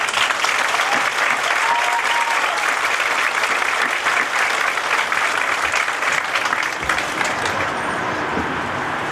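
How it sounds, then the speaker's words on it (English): A large crowd at a high school graduation applauds steadily, with dense, continuous clapping that holds at full strength and eases off slightly near the end. "Let's give these students a round of applause, please."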